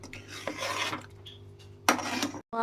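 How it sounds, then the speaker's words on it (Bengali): Ghee-coated khichuri being stirred in a cooking pot, a steady scraping rub of the spoon against the pot, close and moderately loud, with a brief sharper clatter near the end. "ঘি দিয়ে আরেকটু এটাকে নাড়বো"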